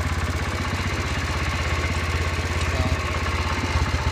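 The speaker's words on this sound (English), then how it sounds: "the tractor actually hauls ass, which I'm kind of happy about" A Wheel Horse C-81 garden tractor engine chugs steadily as the tractor drives along in second gear, a close, evenly pulsing small-engine putter with a faint clatter and no pauses. One brief word is spoken at the start.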